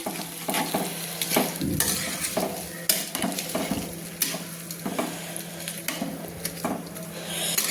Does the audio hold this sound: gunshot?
no